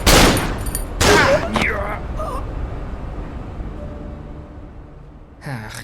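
Gunshots in the horror game Cry of Fear: a few loud, sharp blasts spaced apart, one at the start, another about a second later and a last near the end, with gasping breaths in between.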